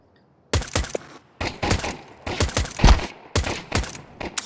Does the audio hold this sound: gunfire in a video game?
yes